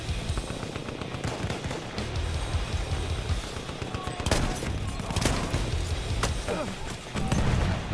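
Battlefield 1 gunfire and shotgun blasts crack in a dense, steady barrage, with sharp louder reports standing out near the four- and five-second marks and again at the end, all over constant battle noise.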